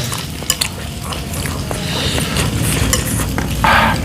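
Squid and octopus are stirred in a hot pan, with a steady sizzle of frying under scattered scraping and clinking of a utensil against the metal. Brief knocks sound near the start and a brighter hiss swells toward the end.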